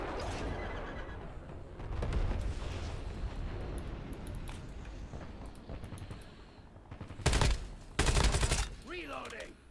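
Gunfire in the video game Call of Duty: Warzone, rapid bursts of shots under ongoing background game noise, with two loud close blasts near the end.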